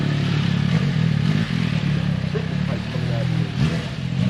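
A Can-Am Ryker three-wheeler fitted with a custom triple exhaust revs nearby, a deep, throaty, steady engine rumble with a brief surge, loud and close, with some clatter and voices in the background.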